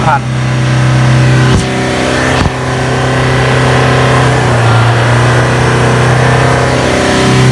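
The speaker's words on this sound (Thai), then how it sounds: "แต่นี่เรากดคันเร่งร้อยเปอร์เซ็นต์แล้วนะครับ" A Nissan Navara diesel engine is held at full throttle but capped below 4,000 rpm by a fuel pump and rail pressure fault. It makes a loud, steady, close droning note that barely changes pitch, with a couple of sharp clicks early on.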